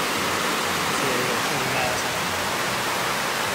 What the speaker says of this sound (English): It's starting to pour rain here